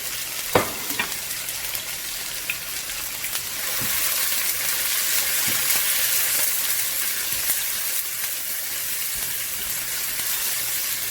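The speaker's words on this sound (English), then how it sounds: "Then we're gonna add some chopped onion in here. Make a nice golden color here." Chopped onions fry in a pan for a fish curry, giving a continuous bright sizzle that swells as they are stirred, with a few soft clinks of a utensil against the pan and no talking over it.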